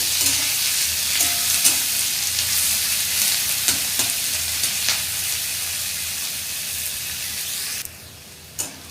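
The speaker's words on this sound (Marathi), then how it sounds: "कांदा चांगला सोनेरी रंगाचा होईपर्यंत आपल्याला भाजून घ्यायचा आहे" Chopped onion sizzling and frying in a pan for paneer bhurji, a continuous hiss with occasional scraping and stirring taps, fairly close, easing near the end with a final clink.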